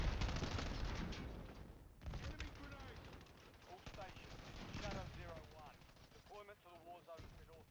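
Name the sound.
grenade explosion and gunfire in a video game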